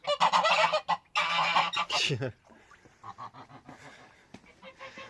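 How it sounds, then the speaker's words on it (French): Geese honk loudly and repeatedly in a noisy burst, then quieter scattered honks and calls continue, close by. "Les oies sont pas contentes."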